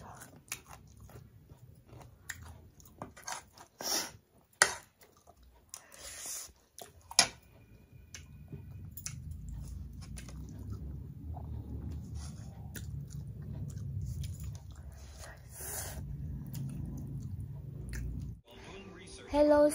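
A person eats spicy food up close: sharp crunchy bites come first, then steady wet chewing, with occasional voice sounds under the munching.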